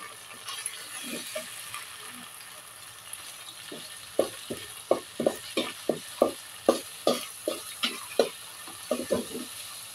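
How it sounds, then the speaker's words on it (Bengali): Mutton is fried with spices in a pan, with a steady low sizzle and a run of sharp, rhythmic scraping stir strokes that grow regular and louder in the second half. "এবার আমি এই উপাদানগুলিকে দিয়ে খুব ভালোভাবে ভেজে নিচ্ছি।"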